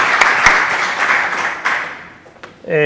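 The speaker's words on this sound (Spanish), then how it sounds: "Vamos a darle un aplauso a Javier." Audience applause for a speaker at a talk on food pathogens, a broad steady patter of clapping that thins out and fades before a voice comes in at the end.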